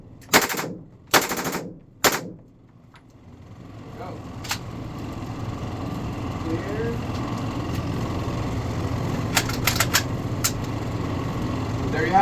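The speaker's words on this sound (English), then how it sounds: "we're going to do a test fire with their burst fire of 7" A civilian HK94 rifle, a select-fire semi-auto and burst-of-seven version of the MP5, fires several sharp close bursts of rapid shots at the start, then a single crack, followed by a steady engine-like drone and scattered faint clicks later on.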